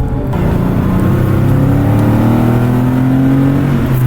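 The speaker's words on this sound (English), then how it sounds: "Those flat six just sound so good" A flat-six engine car at full power, a loud, steady, close engine roar with rising harmonic tones as it revs and accelerates, heard alone and without talk.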